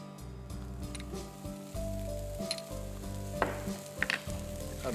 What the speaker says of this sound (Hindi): अदरक और लहसुन को भून लेते हैं।